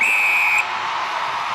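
A referee's whistle at a netball world cup match between Australia and Northern Ireland gives one short, clear, shrill blast over a steady crowd murmur, which carries on after it.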